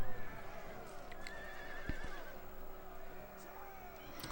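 In a video game battle, Nordic Horse Lords cavalry charge with loud, repeated neighing and whinnying over the clatter of hooves and the mixed noise of combat.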